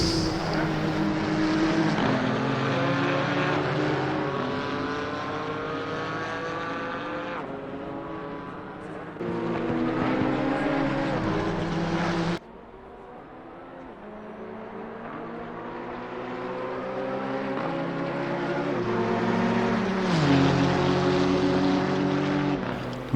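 GT4 race car engines in Assetto Corsa Competizione at Brands Hatch, a loud continuous racing drone whose pitch climbs and drops through repeated gear changes, with a sharp cut midway as the engine note shifts and other cars run close ahead.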